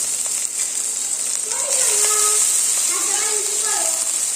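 Diced potatoes and onions fry in a pan, giving a steady bright sizzling hiss that fills the whole stretch, while someone talks over it.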